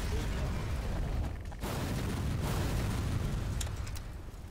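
Distant explosions rumble in the Black Mesa video game during the Surface Tension chapter, a dense, continuous roar of booms and bursts with a brief dip partway through.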